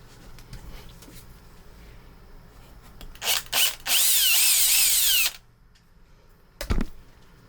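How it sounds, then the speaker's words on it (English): A power drill whirs in short bursts, then runs loudly for about a second and a half before stopping, followed by a brief final burst; close by. "Or maybe I need to drill a slightly longer hole."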